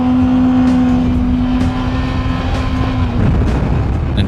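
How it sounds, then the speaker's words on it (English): A performance motorbike on a race track holds a loud, sustained high engine note, steady and close throughout with a slight dip near the end and no voices. "as you can hear by the engine revs"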